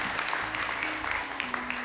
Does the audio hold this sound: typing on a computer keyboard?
no